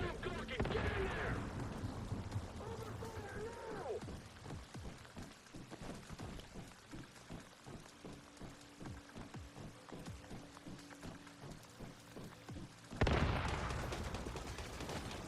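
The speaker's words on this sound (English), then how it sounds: "People are shooting grenades at me." Grenade rounds fired in the survival shooter Once Human: heavy blasts open and close the stretch, with a dense run of sharp, crackling detonations and gunfire-like pops rattling steadily in between.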